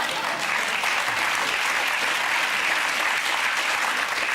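Dense, continuous studio audience applause on a British comedy panel show, loud and even from start to finish with no pauses.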